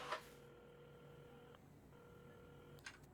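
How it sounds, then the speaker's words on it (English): A rotary telephone being dialed in the video game Assemble with Care: faint, quiet dialing tones and clicks in a short burst, with no talking. "at the counter, Carmen had started dialing the phone."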